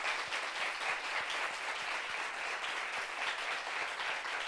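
Dense, continuous applause from a studio audience, steady and fairly loud throughout with no voices.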